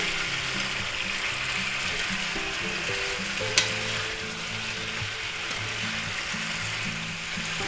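Potatoes, onions and sausage fry in a pan with a steady, even sizzle and hiss that holds throughout, broken by one brief sharp tick near the middle; faint tonal hum sits underneath.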